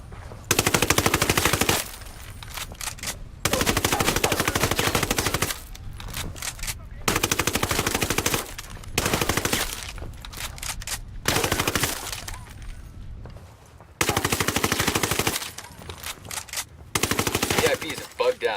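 Machine gun fire in the video game Ghost Recon Wildlands: loud sustained automatic bursts of several seconds each, repeated about eight times, separated by brief quieter gaps.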